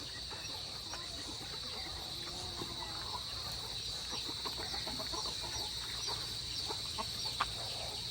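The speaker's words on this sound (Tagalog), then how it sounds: "At dumami na dito ang manok at bibi." Chickens and ducks cluck and call faintly over a steady insect-like hiss and low outdoor rumble at a fishpond, with scattered bird calls throughout.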